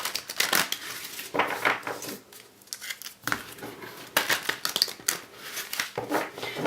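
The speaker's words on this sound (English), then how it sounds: "These are really big cards, so they are a little bit more difficult to shuffle." Large oracle cards shuffled by hand, a dense run of papery riffling and slapping bursts close to the microphone with a brief lull midway.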